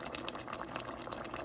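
Dense, steady bubbling and fizzing of liquid simmering in a pot, close and continuous with no voices.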